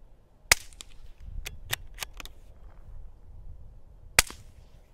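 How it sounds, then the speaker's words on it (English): A handgun fitted with a GSL Tech pill bottle suppressor fires outdoors, each shot a sharp, dry crack with the bullet striking dirt nearby. Two main reports about four seconds apart, with smaller snaps and rustles between them and no talking. "The dirt is louder than the gun."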